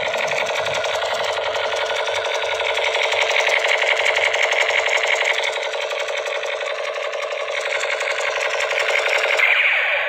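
A Spiderman toy gun fires continuously, giving a loud, steady rattling buzz with rapid repeated clicks, like an electronic machine-gun effect, running without pause for about ten seconds with no talking over it.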